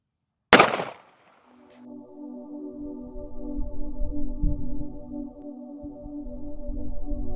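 A single sharp, loud shot from a Smith & Wesson Bodyguard 2.0 pistol firing 85 gr Federal Punch .380 ACP into ballistic gel, followed by a long ringing metallic tone and low rumbling handling noise.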